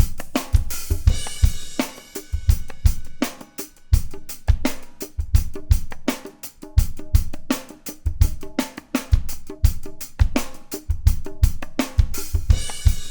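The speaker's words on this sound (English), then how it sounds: "Nice acoustic drum mix." An acoustic drum bus mix plays back with punchy kick and snare hits in a steady groove, cymbals washing on top, loud and clean with no talking.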